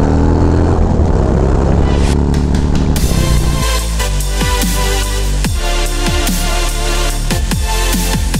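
A Harley-Davidson Road Glide motorcycle engine runs close by, idling unevenly and then rising in a series of sharp throttle revs, loud and continuous with no talking.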